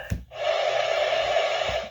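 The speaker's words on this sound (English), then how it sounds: "This is white noise." White noise from a sunrise alarm clock switches on after a short click and holds as a steady, even hiss, close and moderately loud, with a faint tap near the end.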